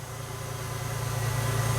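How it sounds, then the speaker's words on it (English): A Jeep Wrangler TJ engine idles steadily after a PCM/TCM replacement, a low continuous hum with a faint rhythmic pulse, close and growing slightly louder, with no talk. "And the Jeep is idling good."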